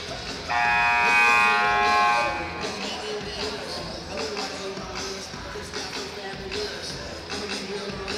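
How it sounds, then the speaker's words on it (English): A loud, steady electronic game buzzer at a sporting event sounds for about two seconds, followed by crowd noise and arena ambience. "Second buzzer to bring them out."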